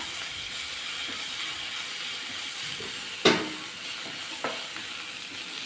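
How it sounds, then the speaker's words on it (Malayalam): A crushed mixture of curry leaves and chillies sizzles and fries in a pan, with a steady hiss throughout and two sharp stirring clatters of a spoon against the pan near the end. "കറിവേപ്പിലയും കൂടെ ചേർത്ത് ചതച്ചെടുത്തതാണ് അതൊന്ന് ചേർത്ത് കൊടുക്കാം ഇങ്ങോട്ട് ചേർത്ത് ഒന്ന് വരട്ടാം"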